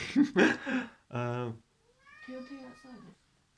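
A cat meows several times, short and clear at close range, with a longer drawn-out meow in the middle and softer calls after a brief pause; the sounds alternate with people talking nearby.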